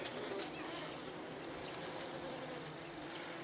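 A faint, even hum of local-breed honeybees fills an apiary, many insects buzzing together in a steady low drone with occasional nearer flybys.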